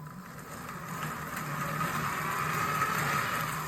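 An electric-converted tricycle motor revving while the trike is lifted off the ground: a steady whirring hum that rises in pitch and grows a little louder after the first second, then holds evenly.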